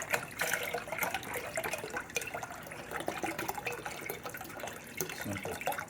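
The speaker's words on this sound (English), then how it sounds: "I use beef broth. It's 900 mils. Dump that in the pot." Beef broth glugs and splashes as it is poured into a pot, a steady close liquid pour with bubbling texture and no talk.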